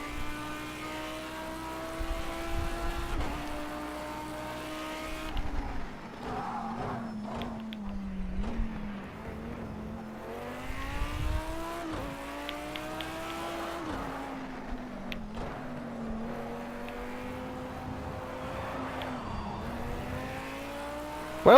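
A race car in a racing video game, set on the Barcelona circuit, roars around the track with engine pitch rising and falling through repeated gear shifts, steady and up close throughout.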